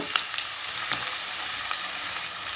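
Onions frying in hot oil in a kadhai, a bright, steady sizzle that continues throughout with a few faint stirring scrapes.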